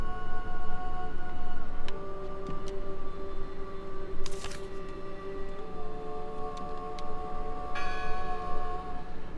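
A church bell rings in the video game Draugen, sustained tolling tones hanging over a steady ambient backdrop, with a few brighter strikes along the way.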